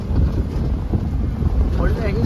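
Strong wind roars steadily against the microphone while riding a vehicle, a loud continuous rush with buffeting gusts and no speech.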